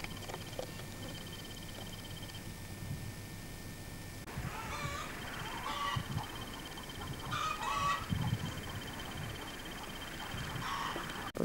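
Chickens cluck on an old dairy farm in the 1990s, with irregular close clucks and bird calls over steady outdoor noise and tape hiss.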